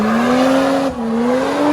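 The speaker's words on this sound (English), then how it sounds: "we're driving the P-plate M4 down Beach Road" P-plate BMW M4 driving down Beach Road in Melbourne, its engine holding a loud, steady droning note close by, with a brief dip midway before the tone climbs again.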